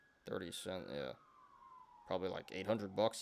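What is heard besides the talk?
police sirens passing outside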